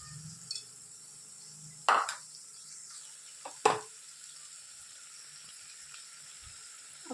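A spoon stirring a poha and potato mixture in a pan: a few sharp scraping strokes spaced out over a faint, steady background sizzle, with no talking.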